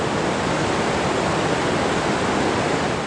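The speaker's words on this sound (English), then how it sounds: "Dix Creek Falls, beautiful." Dicks Creek Falls, a waterfall in Rabun County, Georgia, roars with a dense, loud and steady rush of falling water, heard close and unbroken with no voices.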